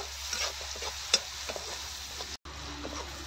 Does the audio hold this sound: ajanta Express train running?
no